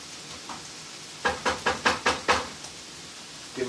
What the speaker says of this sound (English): We're going to give this another stir for a nice mix.